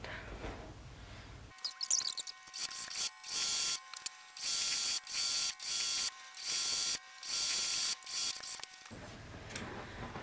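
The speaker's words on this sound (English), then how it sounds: "And then I'm going to sew along" Sewing machine stitching a surf changing towel, running in a series of steady mechanical bursts separated by short pauses, close and loud, with faint talk before and after.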